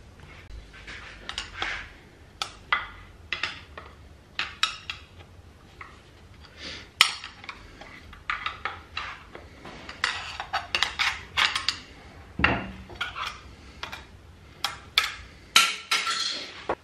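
Metal tools and parts clink, tick and tap in irregular bursts as the cover comes off a Volkswagen DSG DQ500/DQ381 dual-clutch gearbox, with a few louder knocks. The sounds are close and fairly quiet with no talking.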